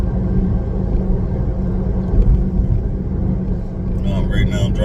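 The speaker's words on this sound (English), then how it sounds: "Right now I'm driving over Route" A car cruising along Route 1, its steady low engine and road rumble continuous and close from inside the cabin, with faint higher clatter near the end.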